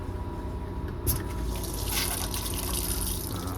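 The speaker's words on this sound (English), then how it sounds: "Water turns on right away, as you can see right here." Water gushing from a tap right after a water pump is switched on, starting with a sharp click and then flowing steadily and fairly loud, close by, over a low pump hum.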